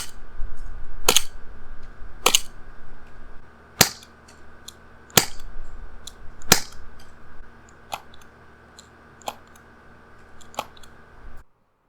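An MK23 airsoft pistol fires about a dozen quiet, sharp clicking shots at irregular intervals over a faint steady hum, each report a short dry snap with little echo, close by and without voices.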